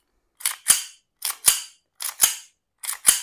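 Four crisp metallic slide racks on a full-metal Remington 1911 RAC CO2 BB air pistol, each a quick double clack pulling back and snapping forward, evenly spaced and close up with silence between.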